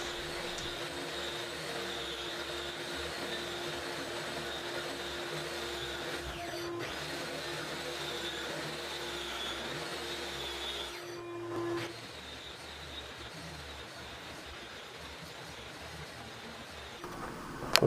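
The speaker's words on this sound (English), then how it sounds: "Okay, I finished grinding." Power grinder working steadily on a subfloor hump during leveling prep, a continuous loud mechanical whine that runs for about twelve seconds, then stops, leaving quieter room noise.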